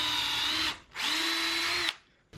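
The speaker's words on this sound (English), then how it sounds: "Just going to pre-drill to make sure there's no issue with tearing out." Power drill pre-drilling screw holes into a wooden shop ladder in a workshop: two close, loud sustained whirring bursts of nearly a second each, separated by a brief pause, then a third burst starting at the end.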